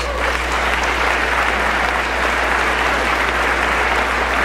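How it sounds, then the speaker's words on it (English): A school audience applauds the Los Angeles mayor with steady, dense clapping that holds evenly throughout, with a low steady hum underneath. "that round of applause isn't just for me, it's for you"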